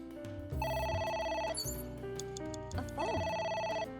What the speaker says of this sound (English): A phone. Should I pick it up?